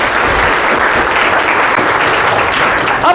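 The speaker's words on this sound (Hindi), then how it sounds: "एक बार सर अपने लिए जोरदार ताली बजा" Loud, sustained applause from a large indoor audience at a training meeting, dense clapping that holds steady throughout with no speech over it.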